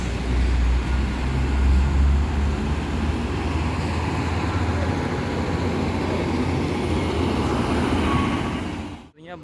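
A Marawa tour bus, serving as a replacement unit, passes on the road with a loud, steady engine rumble and road roar that holds throughout, then cuts off abruptly at the end.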